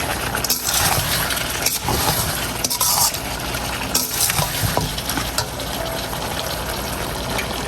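Onion paste being stirred into chicken chole in a pan: a continuous loud sizzle and bubbling with irregular scraping strokes of a spoon, close up and without talk.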